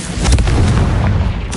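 A Confringo blasting spell explodes in the Hogwarts video game, a loud, heavy boom with a rumbling low end that sustains briefly before a second sharp crack near the end.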